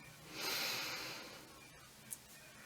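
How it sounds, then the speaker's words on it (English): A single deep, slow breath drawn in and let out close to the microphone, a soft airy hiss swelling and fading in a quiet room during a relaxation moment. "Last deep breath in"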